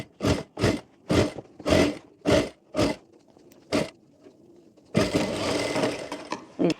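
A sewing machine runs a top-stitch along the collar of a traditional Navratri koti jacket, starting in seven or eight short whirring bursts, then settling into one longer continuous run near the end.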